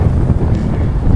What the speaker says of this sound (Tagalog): Medyo malakas lang po ngayon ang hangin.